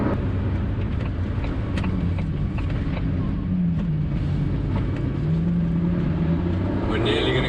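Engine of a 2019 Ford GT on the move, a steady low droning rumble with shifting pitch, heard from inside the cabin over constant road and wind noise, with a voice speaking now and then.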